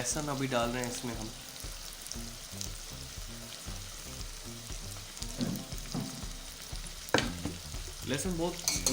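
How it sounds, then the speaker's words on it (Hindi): Chopped garlic fries with onions in a hot pan for a masala okra dish, giving a steady sizzle with rhythmic scraping from stirring. The cooking stays close and continuous throughout. "लहसुन अभी डाल रहे हैं इसमें हम।"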